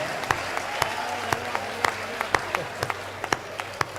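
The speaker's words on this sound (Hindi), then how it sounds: "ताली वाली बजा दो यार," Sparse audience clapping at a Hindi comedic poetry recital, a series of distinct separate claps at irregular intervals over a low background hum.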